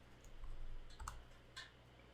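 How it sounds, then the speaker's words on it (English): Soft, sparse clicks of keys being pressed on a computer keyboard, quiet and somewhat distant over a low steady hum, with a few separate taps and no talking. "start typing and then"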